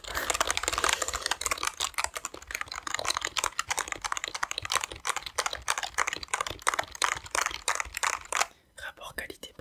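Fingers type rapidly on a store computer keyboard, a dense close stream of soft key clicks with a faint whispered voice underneath, ending in a brief pause.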